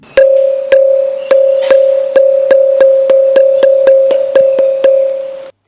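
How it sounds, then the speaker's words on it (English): A rapid, steady series of about a dozen ringing strikes on an ancient temple's stone pillar, evenly spaced like a clanging school bell, each tone overlapping the next. "here is the sound similar to a school bell"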